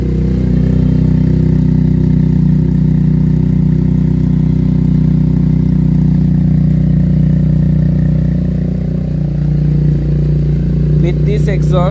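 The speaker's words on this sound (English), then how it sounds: "That is Akrapovik exhaust." Close and loud, a Benelli TNT 300 motorcycle fitted with an Akrapovik exhaust idles after a cold start, holding a steady, even rumble that barely changes throughout.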